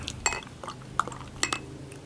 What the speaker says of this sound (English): pour this into my Founder's glass that Tony sent me